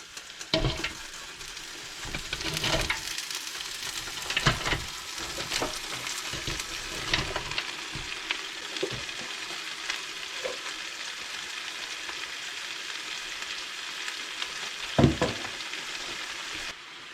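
Onions for French onion soup sizzle and fry in a pot while being stirred, a steady hiss broken by repeated scraping and clattering stirring sounds, close and fairly loud with no talking.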